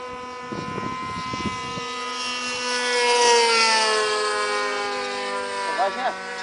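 A model airplane engine screams at a model aircraft club in Piçarras, a high, sustained buzzing whine that rises and swells as it passes nearby, with brief voices talking at the start and end.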